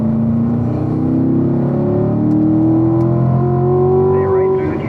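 A car on a race track slows, its engine droning loud and close with a wavering pitch as it downshifts to third gear, while someone talks over the engine noise.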